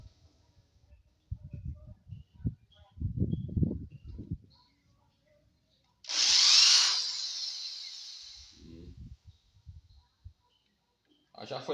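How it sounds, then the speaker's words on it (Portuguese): A power drill bores holes into a car subwoofer speaker box in a Volkswagen Parati, one sustained whining burst of a couple of seconds following someone talking, with more talk afterward. "vou furar mais um aqui e outro aqui, minha tropa. Pra pôr mais 2 parafusos"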